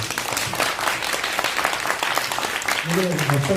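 An audience at a talk event at a citizens' center breaks into sustained applause, a dense wash of clapping throughout, with a voice speaking over it toward the end.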